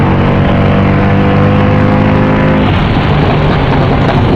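A Mercedes C63 AMG W204 accelerates hard, its engine roaring loud and close with rising harmonic tones that climb through the revs, then a shift that breaks into a rougher, broader roar.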